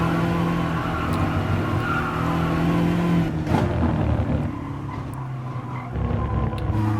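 A BMW race car engine in Gran Turismo Sport at Interlagos revving and roaring, with tires squealing and the pitch shifting as it accelerates and slows, loud and continuous.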